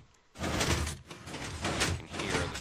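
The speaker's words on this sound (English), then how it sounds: "You can hear the memory tape cycling, and you hear the doors opening." In a Minecraft puzzle map, doors slide open in a steady series of whooshing, mechanical swishes. Three or four repeated surges each rise and fade, with no talking over them.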